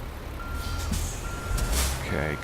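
A truck in American Truck Simulator reverses with a steady high beeping tone, under an engine rumble, an air-brake hiss and someone talking.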